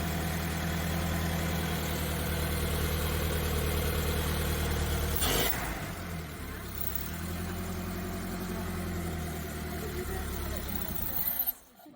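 A Model A Ford fitted with a Burtz Block engine idles steadily with a low, even rumble close by, a brief clatter midway and the engine cutting out at the end.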